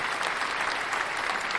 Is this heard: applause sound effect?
yes